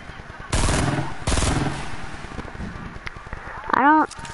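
Drum gun firing in Fortnite, two short rapid bursts of loud automatic fire close by, followed by other game sounds and a rising chime near the end.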